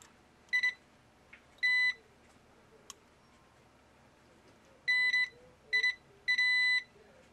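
Several short electronic beeps from a multimeter continuity test on a shorted Nintendo Switch circuit board, steady and high-pitched, come in bursts with gaps of quiet between them, close and clear over faint background hiss.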